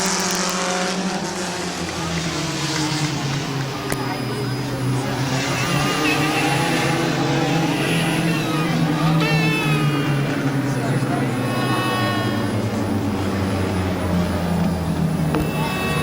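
Compact race cars roar around Midvale Speedway during a 12-lap feature, engines droning loud and continuous with rising and falling pitch as the pack passes, while an announcer talks over the racing.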